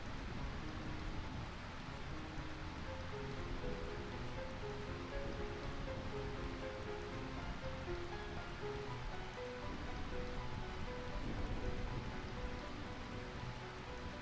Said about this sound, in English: this is the raindrops